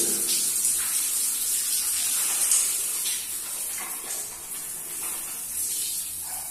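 Water runs continuously from a tap or shower while hair is being washed, a close, steady splashing hiss that dips slightly midway and then carries on.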